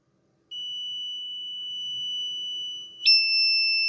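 A loud, piercing continuous electronic beep from an active buzzer module, without its sticker, sounds alone, holding one steady tone before shifting abruptly to a slightly different pitch.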